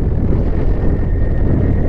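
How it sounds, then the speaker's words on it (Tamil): Steady wind blows across an open high-altitude landscape in Ladakh, a continuous broadband rush with low rumbling buffeting, fairly loud and close to the microphone throughout, with no speech. "எல்லாம் ஃப்ரீயாக காற்று ஓட்டமாக்குது, காற்று வர மாதிரியும் இருக்குது."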